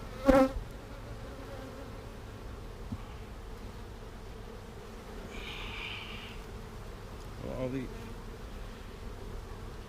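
Honeybees from a package bee colony drone faintly around an open hive during an inspection, a low steady buzz with a sharp knock near the start and a brief higher whine midway.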